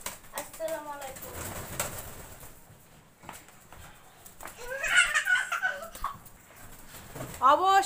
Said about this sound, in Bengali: আমাদের দুইটা পায়রার নাম সুন্দরী